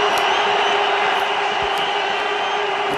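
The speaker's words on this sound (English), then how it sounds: "The crowd go berserk." A packed cricket stadium crowd roaring after a six in an India versus Pakistan Champions Trophy final, a loud continuous wall of cheering with scattered whistles and horns.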